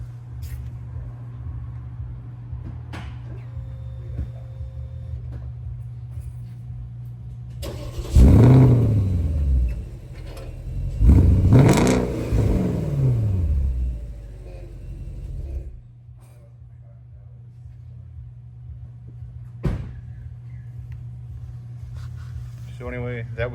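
A Porsche 958 GTS with a 4.8-litre non-turbo engine starts up and settles into a low idle, then gives two sharp rising-and-falling revs before returning to a quieter idle, with someone talking over parts of it.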